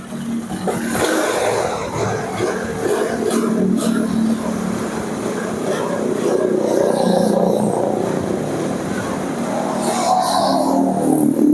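A carbureted Honda Vario scooter with a faulty engine runs after a kick start, a steady close mechanical drone that holds with slight rises in level and no talking over it.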